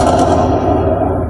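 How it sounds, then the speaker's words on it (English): A loud, sustained rumbling blast that rolls and echoes, heard during a nighttime Black Hawk helicopter training exercise over downtown Los Angeles, with dense low roar and crackling texture throughout. "You can even hear an explosion."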